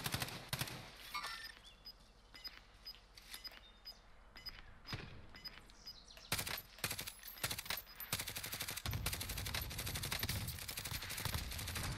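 Bursts of automatic gunfire in a Call of Duty Warzone match, sparse and mid-distance at first, then dense, rapid volleys crowding the later seconds, with no talk over them.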